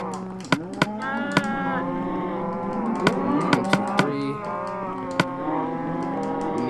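Minecraft cows mooing loudly and repeatedly with long drawn-out bellows, overlapping calls, punctuated by a few sharp clicks.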